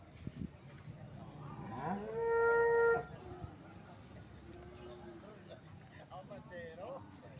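A Limousin breeding cow moos once at a cattle market, a single clear call of about a second rising above a busy background of people talking and market bustle.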